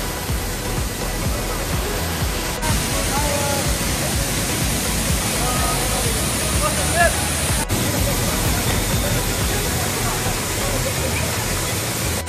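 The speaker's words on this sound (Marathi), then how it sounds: "आता पाणीचा रेट खूप जोरात आहे, धबधबा खूप जोरात" A powerful waterfall in a jungle roars nearby during rain, a loud, constant rushing of water that fills the whole clip without letting up.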